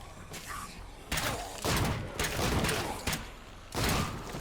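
Loud repeated gunshots from an extremely powerful gun in State of Decay 2, firing in heavy, booming bursts with short gaps between them, close and dominant.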